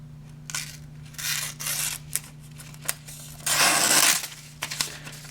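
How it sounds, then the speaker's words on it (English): Bark River Gunny Hunter fixed-blade knife push-cutting limp, fibrous phone book paper, giving a series of short dry rasping and tearing swipes followed by one longer, louder crunching cut, heard close up over a steady low hum. "we're going to have to do our push cut test with phone book paper"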